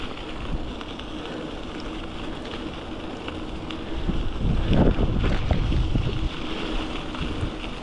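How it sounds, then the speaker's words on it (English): Breezy wind buffeting the microphone during a morning bike ride on the Longbeach Trail in Melbourne, a continuous rumbling roar that swells midway, with no talking. "A little bit breezy this morning."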